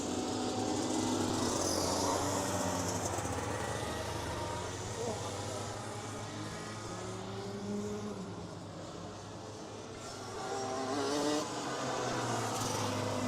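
Rotax Max Heavy racing karts run on track during a qualifying session at a championship meet, their engines a continuous buzzing drone that dips in the middle and rises again, with commentary spoken over the top.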